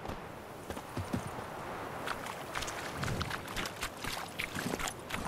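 Hooves of Geralt's horse Roach clip-clop at a walk in The Witcher 3: Hearts of Stone, an irregular string of soft near thuds over faint ambient outdoor noise, with no talking.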